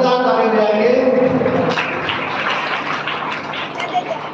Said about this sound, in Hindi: एक बार जोरदार ताली जाएंगे।